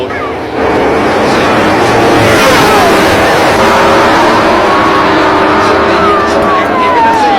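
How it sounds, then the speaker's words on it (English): Motorcycles racing on a village track in Indonesia, engines revving in a loud, dense roar with a high whine sweeping past, close and continuous throughout. "Brilliant motorcycle racing."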